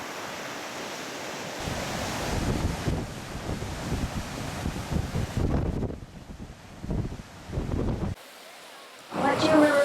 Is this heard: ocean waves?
yes